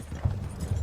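Horse hooves clip-clop in Red Dead Redemption 2, a steady rhythm of soft, close hoofbeats at moderate loudness with no talk over them.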